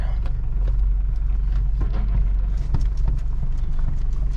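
1985 Toyota 4Runner with a clutch not working properly, driving along with a loud, steady low engine rumble and faint rattles and knocks throughout.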